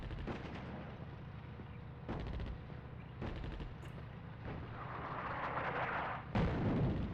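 Artillery fire in the World War II strategy game Attack at Dawn: North Africa, a run of heavy booming shots with rumbling, crackling aftermath, steady and fairly distant, with no talking over it.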